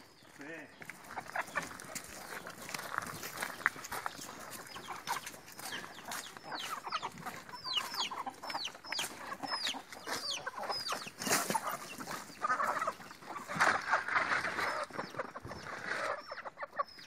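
A rooster and hens cluck outside at a country house, with a run of quick, repeated clucks and calls. The fowl sound fairly quiet and close, over a soft background.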